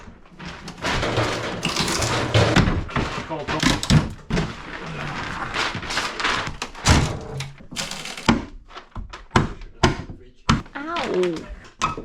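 A fist pounds on a door during an installation job on an island, a series of dull, close thunks and knocks mixed with clatter, with people talking and reacting between the blows.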